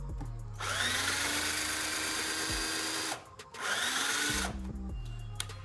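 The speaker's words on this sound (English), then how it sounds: "So I'm going to take my drill" A power drill driving into wood for a sandbox bench, two loud whirring bursts of about two and a half and one and a half seconds separated by a short pause, close by.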